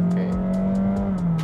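A Honda HR-V e:HEV hybrid SUV accelerating hard, a steady engine and motor hum with a slowly falling tone and rhythmic road thumps, heard from inside the car.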